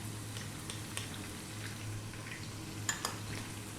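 Onion and garlic fry over high heat with spices in a pan for Arabic Bukhari rice, giving a steady close sizzle with a few faint utensil clicks near the end and no talking.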